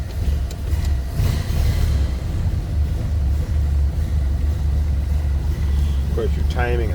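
A 1931 Ford Model A four-door sedan engine running after being choked, a loud, close, steady low rumble that continues throughout.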